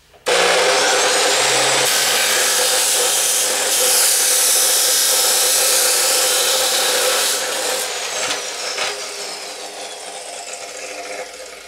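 A DeWalt chop saw running slowly on a router speed controller cuts through roughly 3/4-inch steel pipe with a thick wall, giving a loud, steady grinding rasp that holds for about eight seconds and then eases and roughens toward the end.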